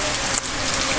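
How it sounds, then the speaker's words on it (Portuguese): Heavy rain pours outside a house, a steady broadband hiss of dense drops filling the whole stretch with one brief louder splash, close and continuous with no voices. "Agora tá uma chuva muito grossa aqui, né?"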